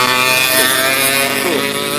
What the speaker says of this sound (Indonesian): Karena ada motor lewat deh, berisik banget knalpot.